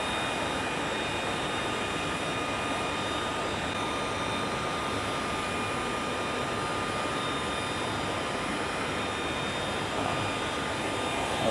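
A Leister Twinny T5 plastic welding machine runs steadily while seaming thin plastic liner sheet, giving a continuous broadband blower-like roar with a faint high whine. It holds even and close throughout, with no talk.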